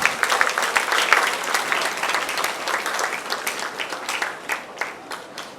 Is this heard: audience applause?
yes